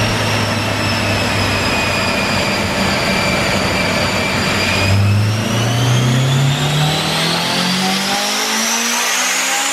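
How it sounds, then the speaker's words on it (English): A Honda S2000 with its stock exhaust running at close range, a smooth steady engine note and whine that rise in pitch partway through, then fall quieter at the end, with no talking. "Sure is quiet with the stock exhaust on there."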